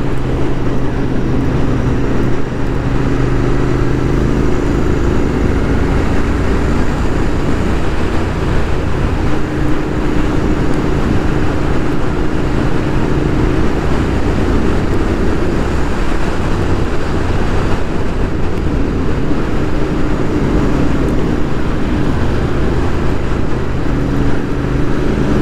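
Royal Enfield rental motorcycle ridden along a winding Provence road, a loud continuous engine drone with heavy wind rush, close and unbroken throughout.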